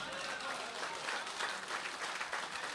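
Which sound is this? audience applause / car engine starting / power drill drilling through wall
audience applause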